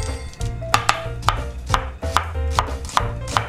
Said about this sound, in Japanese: 続きまして玉ねぎを切っていきます